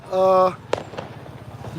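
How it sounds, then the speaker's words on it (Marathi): Firecrackers burst outdoors during a local celebration: a sharp, loud crack followed by a softer pop, coming after a brief sustained tone and over steady background noise. "फटाके फुटत आहेत"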